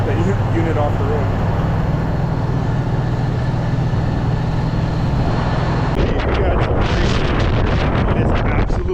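Strong wind roars steadily across the microphone outdoors during a harvest day, loud and unbroken, with harsher gusty buffeting after a shift partway through and a voice faintly mixed into the rush.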